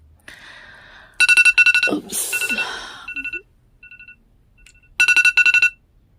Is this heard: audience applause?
no